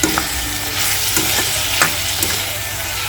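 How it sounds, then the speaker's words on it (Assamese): Chicken frying in a pan with salt and turmeric, stirred so that a steady sizzle is broken by several scraping, clinking stirs. No voices. "লৰাই দিওঁ"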